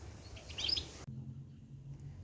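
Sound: birds chirping

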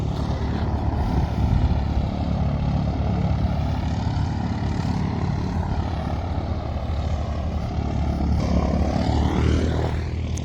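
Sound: propeller airplane at training center

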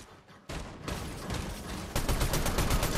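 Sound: gunfire in the video game Fortnite

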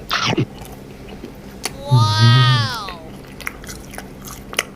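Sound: eating dried strawberries with chili salt

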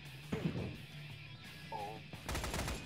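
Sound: gunfire engaging a MiG-21 in a video game

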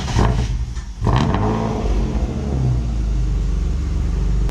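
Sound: car engine starting up and revving

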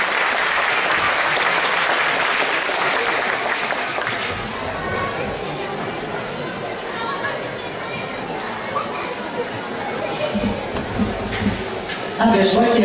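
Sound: audience applause at a gala

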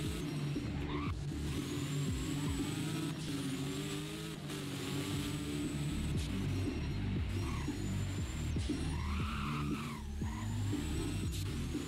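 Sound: McLaren Fenyr supersport car engine in video game Driving Empire

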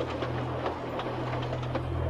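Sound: train engine pulling trucks of scrap

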